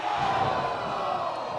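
A wrestling crowd at a Victory Wrestling show cheering and roaring in a sustained, dense wall of noise with no break.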